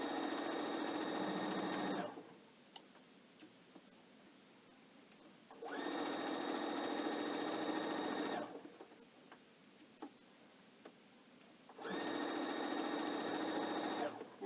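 A sewing machine stitches down a pillowcase in three bursts of fast, even whirring, each a few seconds long and separated by quiet pauses with small clicks.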